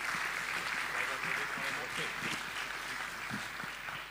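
An audience at a panel discussion on debunking without harassment applauds its three speakers with steady, moderately distant clapping, and a few voices mingle in.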